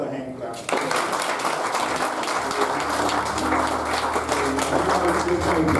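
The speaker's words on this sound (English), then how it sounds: "Let the church just give God another hand clap." A church congregation at a funeral service claps for God, a quiet hall erupting into dense, steady hand clapping that continues under a voice and low organ tones.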